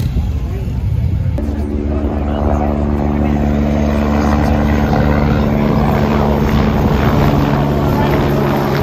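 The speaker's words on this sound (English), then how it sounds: "Got a private helicopter landing." A private helicopter landing at the Quail Motorsports Gathering car show, a loud steady rotor and engine drone with a low harmonic hum that runs through the whole stretch, close and dominant over faint crowd sound.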